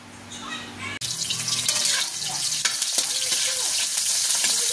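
Garlic, onion and ground meat sauté for a Filipino corn dish, a loud, steady sizzle that starts abruptly after a brief quieter moment and runs continuously, with occasional stirring scrapes and no talk.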